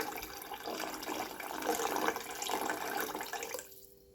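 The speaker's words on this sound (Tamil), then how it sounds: "இப்போது இந்த ஸ்டேஜில் தண்ணி ஆட் பண்ணிக்கோங்க." Water poured steadily from a tumbler into a cooking pot of rice and lentils for karamani rice, a continuous close splashing gush that cuts off abruptly near the end.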